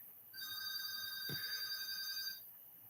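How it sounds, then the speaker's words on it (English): A phone rings with a steady electronic tone that holds for about two seconds and then stops, fairly faint, with a soft knock partway through and no talking. "Gee, my phone's ringing."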